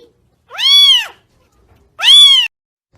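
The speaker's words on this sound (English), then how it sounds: "my cat just likes to join me for walks" A cat lets out two clear, loud meows about a second apart, each a drawn-out rising-then-falling cry close by, with quiet in between.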